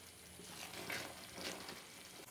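Chana dal halwa being stirred with a spatula in a kadai, a soft, steady scraping and gentle sizzle with faint swells of movement, close and continuous, no voices.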